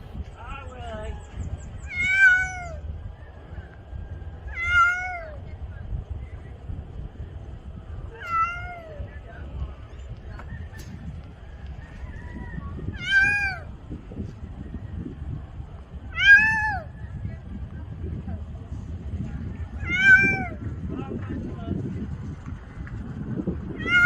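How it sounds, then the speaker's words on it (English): A cat meows repeatedly while being rescued from razor wire, loud near cries spaced every few seconds over a steady rumbling background. "play that fairly dynamic one with the cat being saved from the barbed wire"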